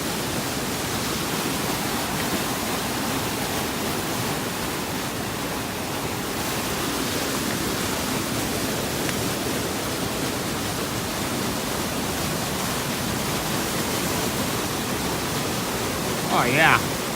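Rushing creek water along the Berg Lake trail fills the air with a steady, broad, hissing roar that stays constant and close throughout, with a brief faint voice near the end.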